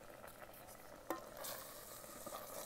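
Fish stirred into gravy inside an Instant Pot gives a soft, faint wet stirring with a light sizzle and one sharp clink of a utensil against the pot, steady and close.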